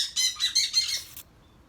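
A pet parrot lets out a rapid burst of harsh, loud squawks in a room, four or five shrill calls packed into about a second before falling silent.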